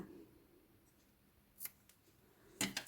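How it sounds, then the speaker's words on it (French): Scissors snip through yarn while finishing a crocheted bunny-ear Easter scrunchie: a faint snip, then a sharper, louder double cut near the end, close up in a quiet room. "Et je le coupe."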